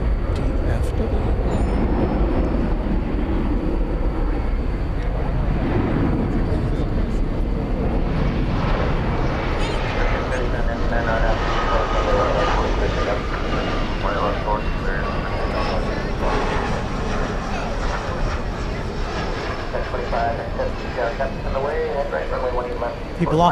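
An American Eagle Embraer 175 regional jet moves along a runway at DFW Airport at night, a continuous low engine rumble and whine holding steady, with someone speaking over it.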